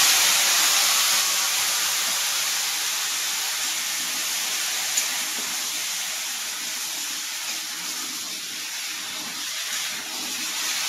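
Vegetables go into hot oil with cumin seeds and dried red chilli and sizzle in a loud, steady, hissing fry that continues evenly without letting up, close by and with no talking.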